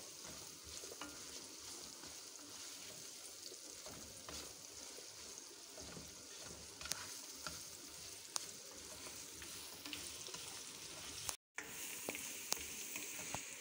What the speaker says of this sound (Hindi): सब चीज़ों को हम अच्छे से रोस्ट कर लेंगे। ज़्यादा हमने इसका कलर नहीं चेंज करना, बस हल्का सा नरम ही करना है प्याज को।